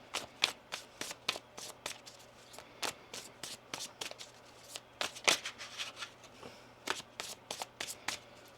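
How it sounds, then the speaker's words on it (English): Tarot cards shuffled by hand in a quiet room, a rapid series of crisp riffling bursts, close and fairly soft, with short pauses between shuffles. "One more shuffle here."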